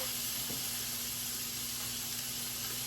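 Ground hamburger meat sizzles steadily in a skillet, a continuous moderate hiss with a faint bump near the start and no talking.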